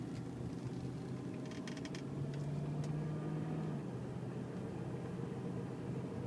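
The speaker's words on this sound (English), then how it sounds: "You can see how quiet it is" A quiet, steady engine hum from a 1995 Lexus LS400 with low rumble, smooth and even throughout, with faint interior noise and no talking.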